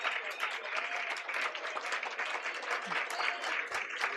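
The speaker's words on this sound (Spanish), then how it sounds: "Pues este aplauso es para nuestros pueblos originarios" An audience at a Latin American and Caribbean theology congress applauds steadily, with dense clapping throughout and no talk heard.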